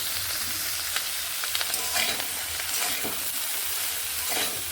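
Salted, turmeric-dusted food frying in a pan while being stirred, a steady close sizzle with scraping strokes of the spatula breaking through at irregular intervals, no voices.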